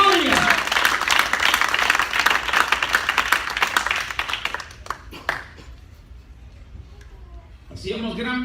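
A congregation at a Spanish-language church service gives loud, sustained applause as an offering to Christ. The applause fades out after about five seconds, leaving near silence before a voice briefly returns.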